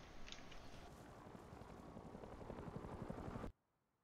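Helicopter in the video game Rust, a steady dense rotor roar held loud and constant for about three and a half seconds, then cut off abruptly into near silence.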